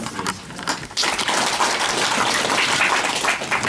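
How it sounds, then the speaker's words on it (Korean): After a brief quieter opening, a seminar audience at a history conference on Bocheongyo breaks into sustained, dense applause that continues steadily to the end. "큰 박수 부탁드리겠습니다."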